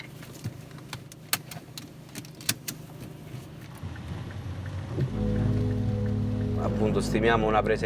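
A passenger ride in a man's car in Italy begins with scattered clicks and rattles of doors and keys. Then the engine starts, and a steady rumble builds and holds, with faint voices near the end.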